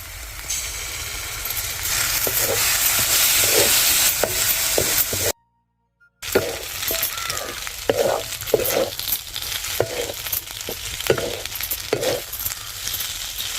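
Pasta sauce frying in a pan with onion, garlic, red chili, turmeric, salt and tomato sauce, giving a steady loud sizzle with stirring clatter, broken by a brief silent gap before the frying resumes.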